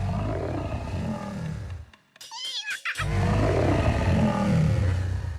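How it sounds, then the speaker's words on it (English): A loud, low growling roar rumbles on, breaks off into a short burst of high warbling cries, then the deep roar returns just as strongly. "I heard a monster noise."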